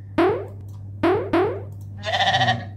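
An animated sheep on a Wallpaper Engine desktop wallpaper bleats three times in quick succession, loud and close, then gives a longer wavering bleat over a steady low electrical hum.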